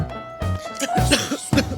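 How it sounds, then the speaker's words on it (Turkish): A few harsh coughing bursts close by, ragged and uneven, coming in quick succession with brief pauses between them. "öksürüyor yani"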